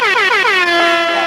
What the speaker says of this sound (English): Where's the air horn?